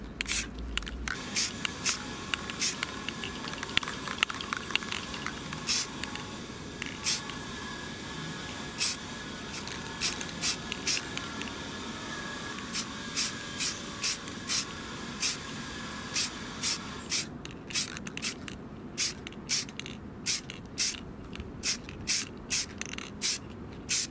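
Spray paint hisses in repeated short bursts as light coats go onto a Logitech G Pro Wireless gaming mouse, close and steady, with brief pauses between passes and no talking.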